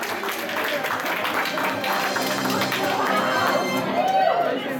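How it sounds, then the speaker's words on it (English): An audience at an anime convention game show gives a round of applause, with a broad, continuous wash of clapping and crowd chatter while a host's voice carries over it. "Give a round of applause one more time."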